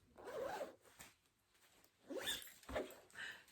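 A zip on a small grey bag being pulled open or shut, several quick rasping strokes in short bursts, close and fairly quiet, with no talking.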